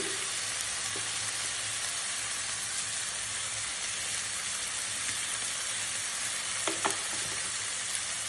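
Chicken coated with masala, coriander and turmeric powder sautés in a pan with a steady, dense sizzle and frying crackle throughout, close and even, with a couple of faint stirring scrapes and no talking.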